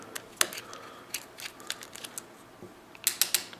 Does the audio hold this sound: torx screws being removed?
yes